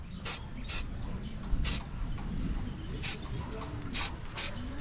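Short bursts of aerosol spray hiss onto rubber as metallic paint is applied, about seven quick sprays in an irregular rhythm, close by, over a murmur of background noise.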